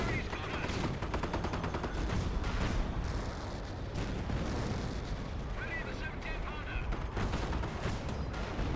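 Company of Heroes battlefield din: rapid small-arms gunfire and artillery booms pile up in a dense, continuous clatter, with radio-style unit chatter and announcer voice mixed under the fighting.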